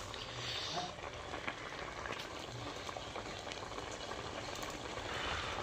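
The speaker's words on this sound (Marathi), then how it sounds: "आता मस्तपैकी कालवणाला उकळ आला आहे" A chicken curry bubbles at a boil in a pot, a faint, steady simmering burble with soft popping that stays low and even throughout.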